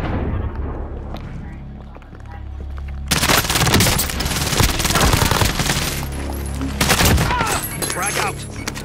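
Sustained automatic gunfire and explosions in a Call of Duty: Modern Warfare match, close and dense, with a voice talking over the heavy shooting.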